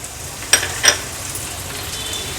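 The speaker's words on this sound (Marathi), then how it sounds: "आलं आणि लसूण तेलावर थोडस परतून घेऊया आता ह्याच्यात हे दोन मीडियम साईजचे कांदे जे आपण घेतलेले ते ॲड करणार आहोत" Onions frying in oil with ginger and garlic for a baby shrimp tawa fry, a soft continuous sizzle with two brief clinks or stirring scrapes early on.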